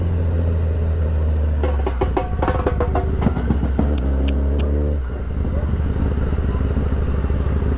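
Cars and motorcycles in congested road traffic during a town fiesta give a constant engine rumble, with a nearby motorcycle revving in short bursts; someone talks over the noise.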